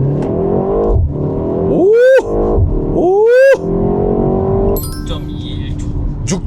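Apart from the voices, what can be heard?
Hyundai Avante N car accelerating to 100 km/h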